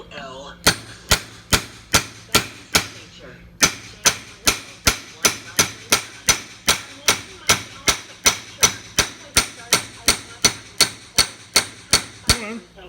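A cheap hammer pounding in steady, sharp, close blows, about two strikes per second, with a brief pause near the start before the even rhythm resumes.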